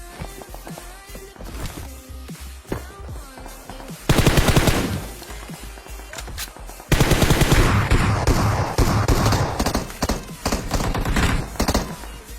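Gunfire in the video game PUBG, with scattered single shots early, then loud rapid automatic bursts around the middle and a long sustained volley toward the end, close and punchy.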